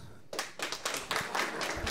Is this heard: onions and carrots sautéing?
no